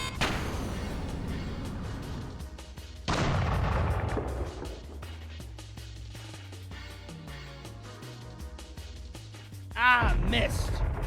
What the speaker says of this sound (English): Bombs away, bombs away.